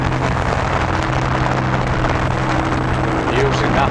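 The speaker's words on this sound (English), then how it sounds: "Throttling up the port engine," A steady, loud boat engine drone as the port engine throttles up, a deep low hum rumbling continuously under buffeting wind.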